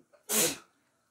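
A single short, sharp human sneeze, close and loud after a faint intake of breath, then silence.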